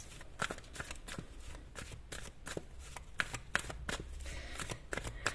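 Energy oracle cards are shuffled close up, giving a quick run of soft riffling and snapping bursts in steady rhythm with no talking.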